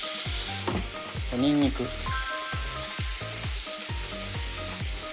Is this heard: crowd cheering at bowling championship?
no